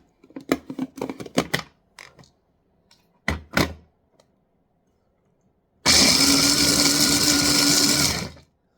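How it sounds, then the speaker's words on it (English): A blender whirs loudly and steadily for about three seconds while mixing banana split fluff, after a run of separate knocks and thunks. "We're just going to blend it."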